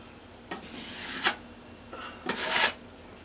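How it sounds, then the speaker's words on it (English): Trowel blade flexed and scraped across drywall to lift off dried putty lumps: two rough, rasping scrapes, close and fairly quiet. "just bend your trowel and you can get those right off just like that"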